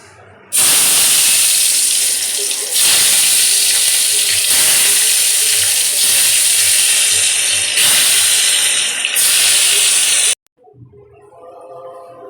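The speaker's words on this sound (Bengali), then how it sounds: "এবার বেগুনগুলো ভাজবো" Loud, sustained sizzling hiss of eggplant slices frying in hot oil, surging in bursts with brief dips, then cutting off to quieter crackling.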